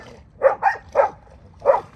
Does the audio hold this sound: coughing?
no